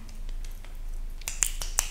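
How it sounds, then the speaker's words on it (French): Finger snaps from a practitioner during a short session, faint soft taps at first, then a quick series of crisp, close snaps in the final second with no talking. "par claquement de doigts, qui a un impact"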